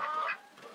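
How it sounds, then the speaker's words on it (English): White hen living with ducks gives a short single cluck-like call in the background, brief and moderately faint. "There's our little resident chicken back there"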